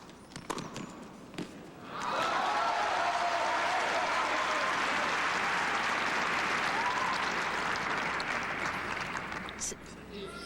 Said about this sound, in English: Some cheering from her friends up there on the side.